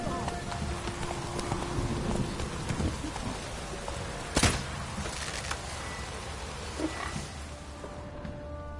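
Roach, the horse in The Witcher 3: Wild Hunt, trots with a soft, steady clip-clop of hooves under a hiss of rain, while a voice speaks briefly over the hoofbeats.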